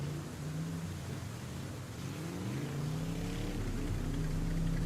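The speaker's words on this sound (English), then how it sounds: "the sound of engines revving" Engines rev with a steady droning hum that rises in pitch and swells slightly louder, heard alone without talk.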